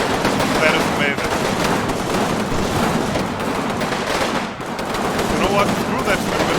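Sustained, dense gunfire and rifle grenade bursts in the Combat Mission Rome to Victory video game roll on without pause, loud and close, a continuous crackling barrage.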